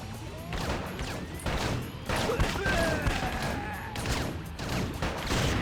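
Gunfire in a GameCube shoot 'em up game, a dense chaotic barrage of shots and crashing impacts that runs continuously and loudly throughout, with faint game voices mixed in.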